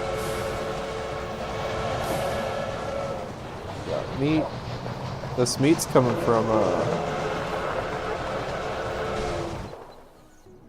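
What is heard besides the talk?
manifest freight train running in a video game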